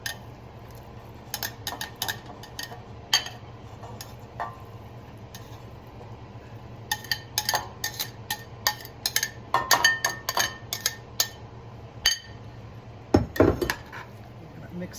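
Pulled pork being stirred with barbecue sauce and reduced cooking liquid in a bowl: repeated scraping clinks and taps of a utensil against the bowl, coming in irregular bursts that grow busier, with a sharper clatter near the end over a low hum.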